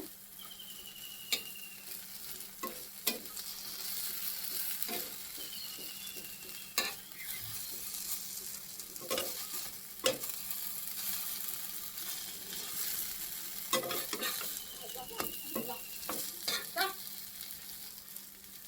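Food fries in a pan with a steady close sizzle, broken by repeated sharp scrapes and clicks of a spoon stirring it.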